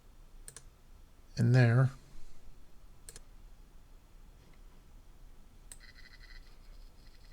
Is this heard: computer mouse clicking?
yes